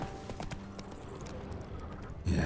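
Roach, the horse in The Witcher 3, clip-clops along with steady hoofbeats at moderate distance, a rhythmic series of hollow knocks over soft ambience before a louder thump near the end.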